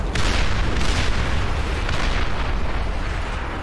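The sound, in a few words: missiles hitting in the video game Beyond All Reason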